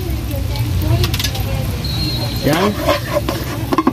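Carrots being stir-fried in a hot pan with garlic and onion for pork chao fan, a steady sizzle with scraping stir strokes near the end, under a voice speaking briefly.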